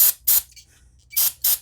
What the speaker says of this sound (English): Just spray that, get any gunk off it.